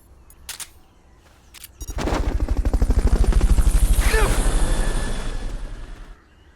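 A helicopter in the video game Metal Gear Solid Peace Walker, its rotor thumping in a fast steady pulse that swells in loudly and then fades, following a few sharp clicks at the start.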